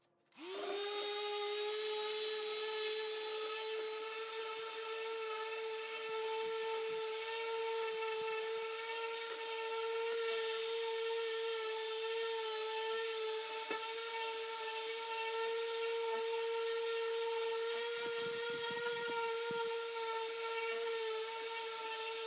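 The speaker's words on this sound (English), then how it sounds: "we're ready to sand this and see what it looks like" A power sander grinds steadily across a hardened glue and sawdust wood filler patch, a loud continuous whine holding nearly constant pitch for over twenty seconds at close range, with no speech.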